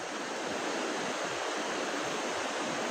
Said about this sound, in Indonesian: ini aliran sungai loh di bawah